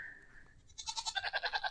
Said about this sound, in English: And I've got some goats out following me.